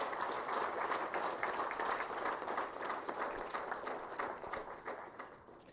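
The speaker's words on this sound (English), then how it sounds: "all of us should clap for all of us" Applause from an audience at the JKO UDAAN competition award ceremony, many hands clapping steadily, fairly faint and gradually tapering off toward the close.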